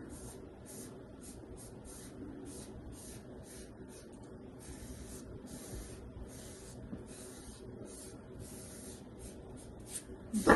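Adhesive sprays from a can onto a surface in a series of short hissing bursts, close and fairly quiet, repeating at a quick, even rhythm with no talk.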